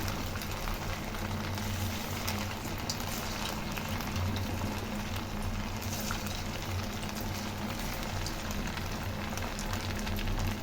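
Steady, dense bubbling sizzle of pakoda made from leftover rice deep-frying in hot oil in a kadai, continuous and close throughout with no talk.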